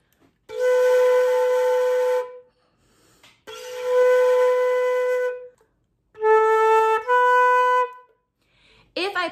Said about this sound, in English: As the air splits across, we're able to produce two tones at the same time.